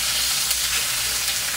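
Snapper fish frying in very hot canola oil in a pan, a dense steady sizzle that is bright and hissy, continuous and fairly soft, with no talking.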